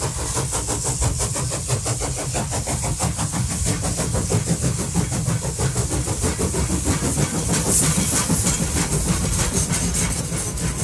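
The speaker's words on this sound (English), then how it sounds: "Another train's coming" A train passing close by on rails in Central Florida, with a loud, steady rumble and a rhythmic clatter of wheels throughout and no voices.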